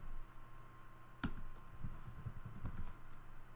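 Quick bursts of keystrokes on a computer keyboard while entering account details, a sharp isolated click followed by a run of soft, irregular taps, close and fairly quiet.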